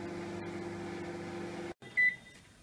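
Microwave oven running with a steady low hum while a menstrual cup boils in water inside, then the hum cuts off abruptly and a short electronic beep sounds near the end.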